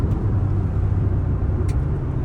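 A Hyundai Verna 1.6 CRDI diesel pulls hard in third gear, its loud, steady engine drone heard from inside the cabin.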